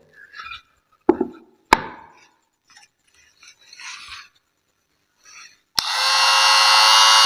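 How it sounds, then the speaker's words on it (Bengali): A homemade mini drill and cutter machine built around a 775 DC motor starts up near the end and runs with a loud, steady, high-pitched whine, after a few sharp knocks and handling clatter. "সুতরাং 775 মোটর দিয়ে বানানো যে আমাদের এই যে মিনি ড্রিল মেশিন বা মিনি কাটার মেশিন খুব"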